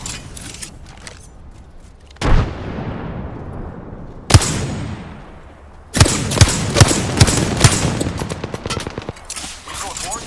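A frag grenade thrown in Apex Legends, with a loud explosion that decays slowly, a second sharp blast, and then heavy rapid gunfire and impacts, all over a busy game background and brief voice lines.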